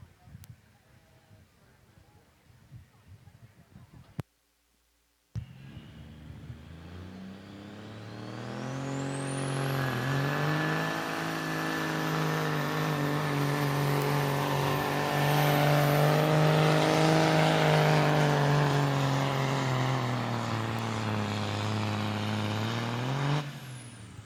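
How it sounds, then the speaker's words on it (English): A 1980 Freightliner truck at a tractor pull starts with an air-brake hiss, then its diesel engine revs up into a long, loud, climbing roar that holds and then eases off, with an announcer speaking at the start. "So Ryan Bala out of Danville, Illinois with a 1980 Freightliner."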